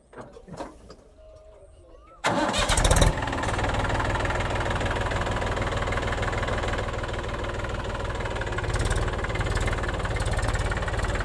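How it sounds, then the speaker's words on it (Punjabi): A tractor engine cranks and roars to life after a few quiet seconds, then settles into a loud, steady, rumbling idle close by. "ਲੈ ਆ ਲੈ ਨਾਨੇ ਦੇ ਟਰੈਕਟਰ ਤੇ ਝੂਟੇ"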